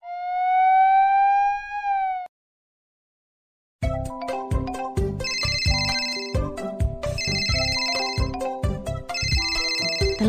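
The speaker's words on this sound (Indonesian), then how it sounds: "Telepon berdering." A telephone rings with a loud, steady electronic tone, then after a short silence a bright, busy ringtone melody plays on and on in a repeating pattern.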